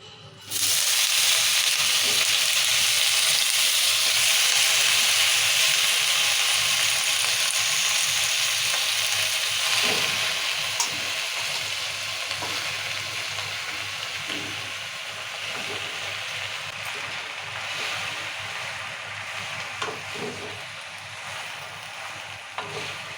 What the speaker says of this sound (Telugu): ఇదే కడాయిలో కొంచెం నూనె వేసుకున్నాము ఇప్పుడు ఈ పుండుకూర వేసుకుందాం